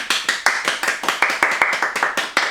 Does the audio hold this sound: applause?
yes